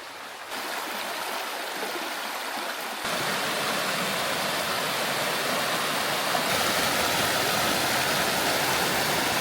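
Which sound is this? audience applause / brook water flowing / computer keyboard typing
brook water flowing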